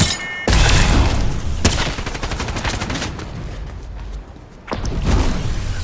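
SMG fire in a video game comes as loud, rapid bursts of close automatic shots with short pauses between them, plus a few heavier booms and whooshes.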